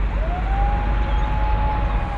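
A single wailing siren rises and holds steady at a distance over heavy rumbling background noise at Iskenderun port during a fire, as fire engines stand by.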